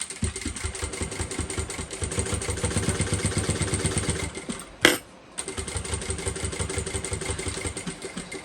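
A sewing machine top-stitches a bucket bag in quick, even bursts, pausing briefly midway with a sharp clunk before the rapid stitching resumes, close and moderately loud.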